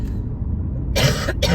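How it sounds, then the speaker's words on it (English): Two quick, harsh coughs close to the mic, following a moment of low rumbling background. "Excuse my coughing, it's my allergies."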